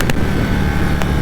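A Harley-Davidson Breakout motorcycle engine gives a short, steady, deep rumble at close range, heard on its own.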